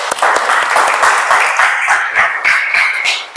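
A classroom audience claps together, a lively burst of dense applause with distinct individual claps, sustained for a few seconds at close range.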